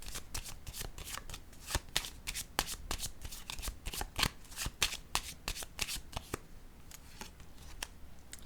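Tarot cards are shuffled close up in a quiet room, a rapid series of crisp riffling flutters and snaps repeating steadily throughout.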